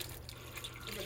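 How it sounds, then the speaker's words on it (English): Water poured into a pot of beef stew with vegetables, a brief steady rushing trickle close by under faint room noise. "I am now adding the water."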